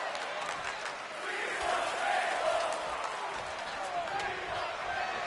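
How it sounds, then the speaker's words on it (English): Virtual arena crowd in the wrestling game WWE 2K26 chanting and roaring as a steady, dense mass of voices that swells in the middle, with thumbtacks and tables in play. "Oh, the crowd want tables."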